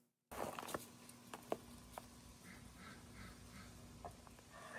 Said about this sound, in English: We got ducks, too. You can probably hear them in the background.